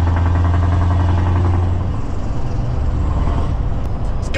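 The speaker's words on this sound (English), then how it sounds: "I like to get the exhaust on in built-up areas. God, I love that exhaust." Truck with an aftermarket exhaust, rumbling loudly and close at a steady low drone, settling into a rougher engine roar partway through, heard alone without talk.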